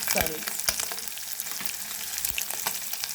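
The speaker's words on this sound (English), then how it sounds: "we are going to keep stirring our meat till it turns golden brown" Beef pieces fry with onion and salt in a pan for spaghetti beef stew, a steady close sizzle with scraping stir strokes and a few sharper clatters, no talk.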